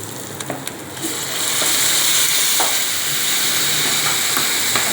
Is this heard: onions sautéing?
yes